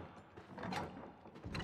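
A door lock in Resident Evil 7 turns and releases as the snake key is used, a short mechanical clunk and rattle with a sharper click near the end, fairly quiet against the game's low ambient background.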